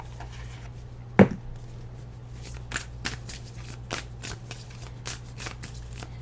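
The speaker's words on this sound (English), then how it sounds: "Let me go ahead and shuffle a little deeper." Tarot cards are shuffled repeatedly in quick, crisp riffles with a sharp snap near the start, close up, over a low steady hum.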